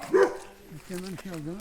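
A dog gives a short, loud bark up close, followed by a pause and then a steady, rising-falling whine-like vocalization.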